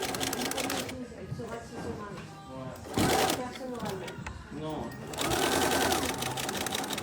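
A sewing machine runs back and forth over a tote bag handle to reinforce it with a backstitch. It whirs in steady bursts, close and clear, stopping and restarting between passes.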